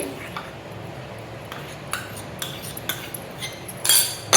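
A spoon scrapes and clinks against a bowl as bitter gourd is mixed with turmeric, amchur powder, cornflour and garlic paste, giving soft, irregular metallic taps and stirring scrapes, with a sharper clatter near the end.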